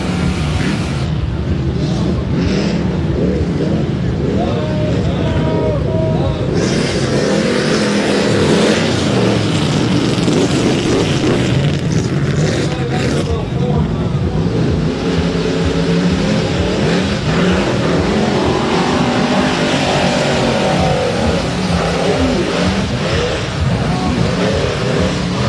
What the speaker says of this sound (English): Definitely, motor sounds pretty healthy.